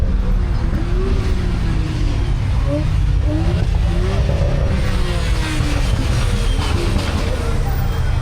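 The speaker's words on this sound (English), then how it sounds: "there is something very loud this way doing a two-step" A loud car engine holds a rough, popping two-step launch-control rev at a night car meet, sustained and close throughout with crowd noise around it.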